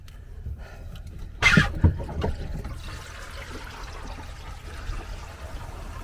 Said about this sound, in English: Hear the black tank.